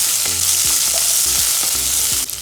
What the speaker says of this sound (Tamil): சேர்த்துட்டு நல்லா வதக்கி வச்சுக்கோங்க.